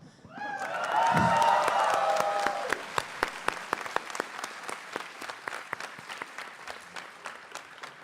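Audience applause at the 14th IIT Hyderabad graduation ceremony in Kandi, a loud swell of many hands with brief cheering early on, then thinning into scattered individual claps that fade out.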